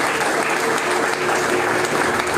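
Church congregation clapping in praise, a steady, dense wash of applause from many hands filling the room throughout.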